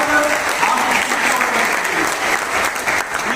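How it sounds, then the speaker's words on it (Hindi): Loud, sustained applause fills a hall at a motivational business gathering, a thick continuous clapping from a large audience with faint voices mixed in. "जोरदार तालियां महापुरुष जी सर"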